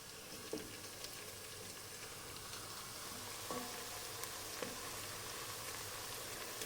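Tomato paste fries in a pan with a faint, steady sizzle, broken by a few soft clicks and pops from stirring.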